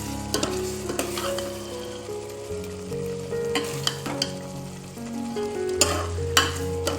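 Rice goes into prawn masala frying in a pan, with a continuous sizzle and repeated scraping stirs of a spatula close by and a low hum underneath, nothing spoken.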